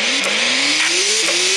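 Race car engine in the mobile racing game Skiddy Car, a loud, continuous whine that rises in pitch as it revs, with brief gear-shift dips, heard alone without voices.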